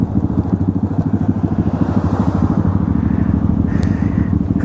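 A motorcycle fitted with an aftermarket Zoom exhaust rides along, its close, loud engine note pulsing rapidly and steadily throughout, with no one talking.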